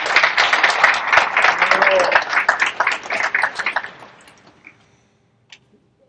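Crowd applause and cheering at a Fleet Week event for Gene, a Navy veteran of the Vietnam era, loud and dense for about four seconds before fading into a few scattered claps.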